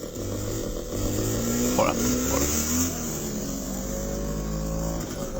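A motorcycle engine plays from a video being watched, a steady mid-level drone with a brief rise in revs around the middle, running under French conversation throughout.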